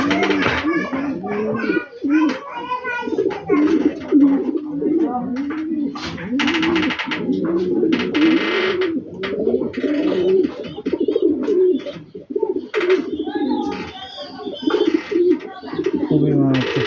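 Racing pigeons coo repeatedly in a loft, throaty rolling calls overlapping one another close by, while people, including a child, talk intermittently over them.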